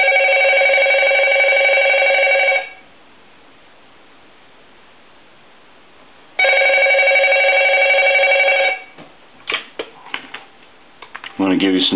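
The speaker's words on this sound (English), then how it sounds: "we're going to go ahead and ring it" A Crosley wooden wall telephone rings loudly in two long bursts of steady electric bell, separated by a few seconds of quiet hiss, followed by faint clicks and handling sounds.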